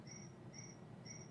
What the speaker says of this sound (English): Hey, it's a cricket.